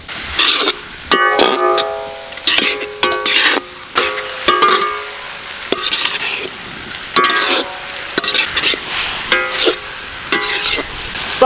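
Onions and other ingredients frying in a pan for a large crab roast, with a loud, close sizzle and repeated scraping strokes as they are stirred in uneven bursts.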